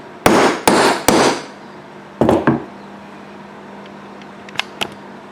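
A small sharp chisel is hammered around an oil filter in three loud, close metallic strikes, followed after a pause by two more blows and a few faint light taps, with no talking.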